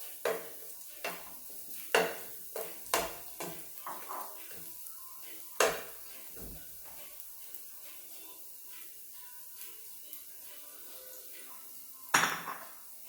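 Carrots cooking in a pot for Jamaican-style callaloo, stirred with a utensil that knocks and scrapes against the metal in a string of sharp, irregular clanks over a faint, quiet sizzle.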